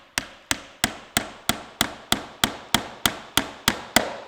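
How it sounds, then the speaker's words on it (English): A hammer taps nails into the roof of a wooden birdhouse, about a dozen sharp, evenly spaced strikes at a steady slow rhythm, close and clear with no talk. "Just tap them in slow and try not to catch the edge of the roof with your hammer."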